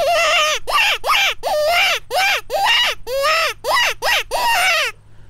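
A Foxpro Grand Slam predator reed call blown to imitate a jackrabbit in distress gives about a dozen loud, close, wavering squealing cries in a rapid pulsing series, then stops abruptly.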